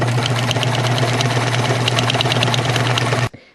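A sewing machine runs a long straight stitch through thick hemp fabric with a loud, close, steady motor whir and rapid needle chatter, then stops abruptly near the end.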